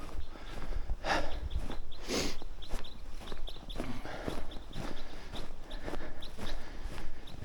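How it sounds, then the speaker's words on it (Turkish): Small birds chirp and call in a snowy pine forest picnic area in Yozgat, with crunching footsteps on snow recurring through the scene at close range. "Ne kuş sesleri."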